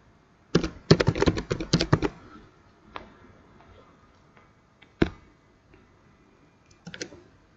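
Quick bursts of typing on a computer keyboard, a flurry of close key clicks for about two seconds followed by a few scattered taps, with no talking.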